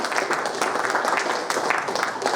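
Audience clapping at a Commodore panel at Play Expo Blackpool, a brief burst of dense, moderately close applause that stays steady before tapering, with a voice briefly audible over it.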